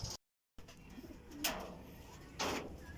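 Racing pigeons back home in their loft in Sison, Pangasinan give soft, faint coos and rustles, with a couple of louder brief bursts against quiet background noise.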